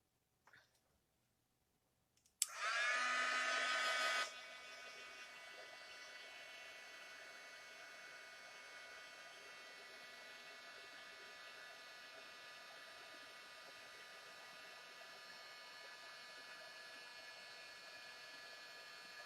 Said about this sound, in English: I just have to emboss it or use the my heat tool.